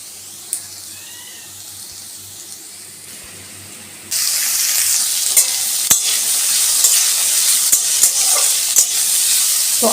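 Potatoes dropped into hot oil for sago pulao burst into a loud, steady sizzle after a quiet start, with crackling pops and occasional clinks of stirring close by.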